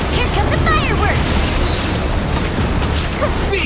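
Bursts of firework-like explosions from an attack in Genshin Impact, loud crackling pops and booms layered over one another with a character's voice speaking over the blasts.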